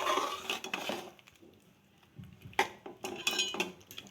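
A spoon stirs chicken masala with fresh coconut in a metal cooking pot, giving close scraping, clinking and knocking in uneven bursts with a quieter pause midway, with no talking.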